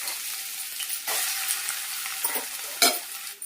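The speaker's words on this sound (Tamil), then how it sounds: "நல்லா வதக்கிக்கலாம். நல்லா ப்ரௌனாக வதக்கிக்கலாங்க." Sliced onions sautéing in hot oil with cloves and cinnamon for a green chicken gravy, a steady close sizzle broken by several scraping stirs of the pan.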